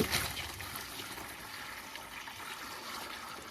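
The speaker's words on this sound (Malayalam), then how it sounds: "ഇതിൻ്റെ അകത്തോട്ട് ഇനി വെള്ളം നിറയ്ക്കുകയാണ് വെള്ളം നിറയ്ക്കുന്നത്" Water pours steadily into a guppy fish tank, giving a continuous close splashing trickle with no talk.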